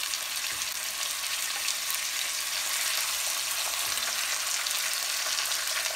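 Deer shanks, lightly oiled and dusted with salt and pepper, sear in a hot cast iron pan with a steady, close, dense sizzle that holds constant throughout, no voices over it.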